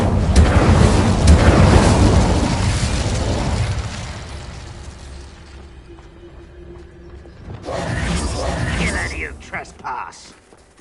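An Incendio fire spell cast in Hogwarts Legacy erupts in a loud roaring burst that fades into low rumbling ambience, then a second fiery whoosh flares up before dying away.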